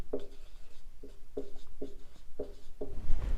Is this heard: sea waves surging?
no